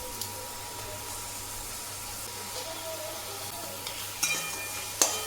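Fish heads frying in oil cooked out of ground coriander and chilli masala for Bengali muri ghonto: a steady, low sizzle fills the whole stretch, with a couple of brief utensil clatters toward the end.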